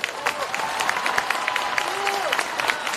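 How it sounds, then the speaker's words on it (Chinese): A crowd at a 2019 Hong Kong rally for Catalan human rights and freedom claps in sustained, moderately distant applause, with a voice speaking over the clapping throughout. "希望大家俾啲掌声佢哋"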